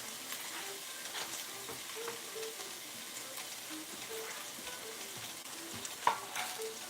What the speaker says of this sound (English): Let me throw these onions in here. Throw those in.